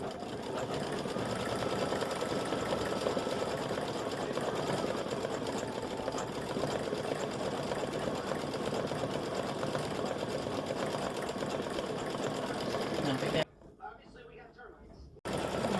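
An embroidery machine stitches out leaves with a programmable fill for a crescent moon, stars and flowers design, running in a steady rhythmic whir with a voice talking over it and a brief pause near the end.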